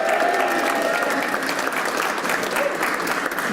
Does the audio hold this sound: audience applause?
yes